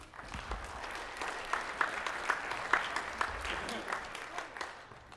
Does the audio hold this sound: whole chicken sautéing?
no